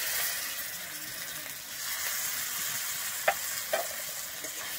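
Chopped tomato stirred into cumin and turmeric in a pan, a soft continuous sizzle with a couple of sharp scrape clicks from the spoon near the end; no talking.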